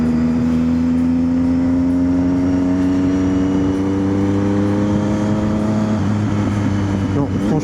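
A motorcycle engine hums loudly and climbs steadily in pitch as it accelerates, heard up close under wind noise.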